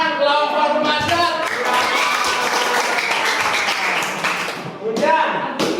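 Students in a classroom clap for a group presenting on traditional houses, a dense and steady round of applause lasting several seconds with voices mixed in, swelling again briefly near the end.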